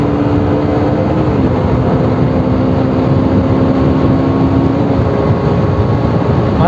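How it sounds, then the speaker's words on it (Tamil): A KTM Duke 125 BS6 motorcycle rides at around 80 to 86 km/h, its engine drone steady and loud beneath heavy wind rush throughout, with one slight pitch shift partway through. "வண்டி பார்த்தீங்கன்னா இப்போ 80ல் போயிட்டுருக்கேன், 80, 85, 86ல் போயிட்டுருக்கேன்."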